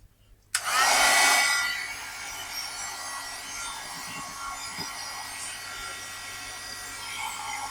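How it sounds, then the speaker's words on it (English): A heat gun blows on fresh paint on a sketchbook page with Gelli print backgrounds, starting abruptly with a loud rushing blast that settles into a steady, close whooshing hum. Faint taps sound underneath. "I'm going to hit that with the heat gun"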